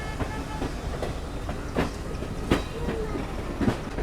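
The Garib Rath Express rolls toward New Delhi railway station, heard from on board. A steady rumble carries regular clickety-clack wheel beats over rail joints at a moderate pace, with no voices.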